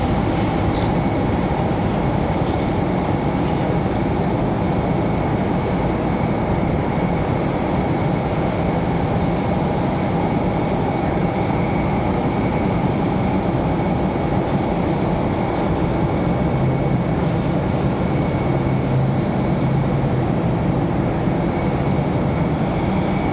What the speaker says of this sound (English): So a couple of A320s ready for departure. Right after our Aeromexico arrival.